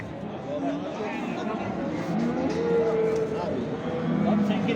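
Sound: cattle mooing at a livestock market

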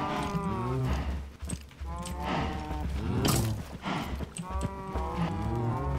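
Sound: milking a cow in the video game Minecraft

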